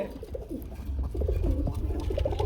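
A female pigeon at a breeding farm gives soft, thin coos in a steady low murmur close by, with other birds faintly around and no talk.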